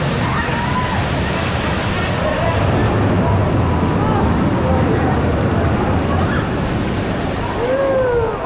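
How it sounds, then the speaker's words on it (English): Waves surge along a water park river ride, a steady, loud rushing wash of churning water that runs on without a break. "we just missed the waves"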